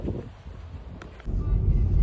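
Gusty wind in a snowstorm buffets the microphone with low rumbling roar, briefly easing before surging louder and steadier toward the end.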